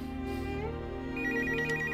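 Office telephone ringing with a trilling electronic bell that repeats in short bursts over a steady background hum, moderately quiet and without talk.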